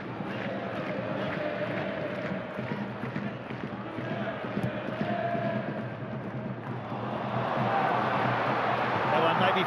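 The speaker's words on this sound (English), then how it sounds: "Crowd trying to find their voice as we tick over the hour mark." Stadium crowd at an A-League football match between Auckland FC and Adelaide United, a steady broad murmur of many voices that swells louder near the end, with a commentator talking over it.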